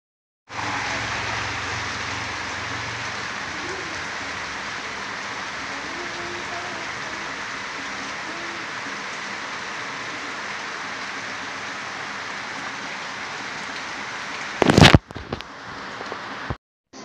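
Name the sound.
steady rain falling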